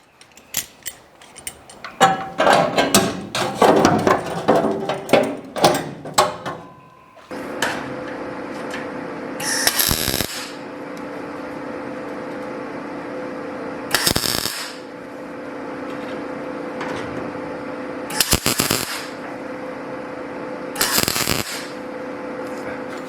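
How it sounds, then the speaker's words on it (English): A piece is welded onto the custom load bed of a 1951 Chevy rat truck: a crackly burst of welding, then a steady hum broken by several short, loud bursts of noise, close up. "and weld it on."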